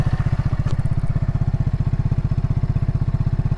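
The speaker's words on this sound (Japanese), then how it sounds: "そしてあのキャプトンマフラーがいい仕事してくれてますね。" A new Kawasaki W175SE retro motorcycle idling through a Kaptone muffler, close and loud, with a steady rapid single-cylinder thump and light mechanical clatter throughout.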